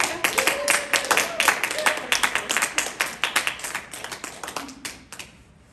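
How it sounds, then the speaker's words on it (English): Audience applause after an artist talk: a burst of many hands clapping, dense and fairly close, gradually thinning out and fading near the end. "Can we clap for you?"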